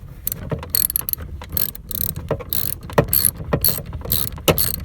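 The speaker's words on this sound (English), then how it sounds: "I'm gonna start turning this." A ratchet turning a coolant temperature sensor on a 1994 Chevrolet Astro van, with close, rapid metallic clicking in uneven bursts and short pauses between strokes, no talk.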